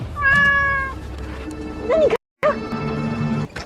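A cat meows loudly and close by, one long drawn-out cry followed by shorter meows after a brief silence.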